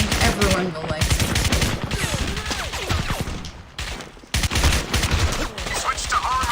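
Crysis Remastered on Nintendo Switch plays loud, close bursts of rapid automatic gunfire and booming explosions, nearly continuous with brief gaps, while someone talks over the game sounds.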